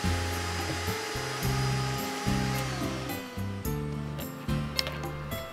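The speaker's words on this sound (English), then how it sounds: "there's a small vacuum mounted close by to clean up after using" A small workshop vacuum mounted beside a table saw and router runs steadily, its motor giving a continuous, fairly loud whine and hum for the whole stretch, with no talking.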